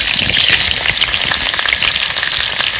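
Whole dry chili, cumin seeds, garam masala and a little onion frying in hot oil for a village-style duck curry, giving a loud, steady crackling sizzle throughout with no voices.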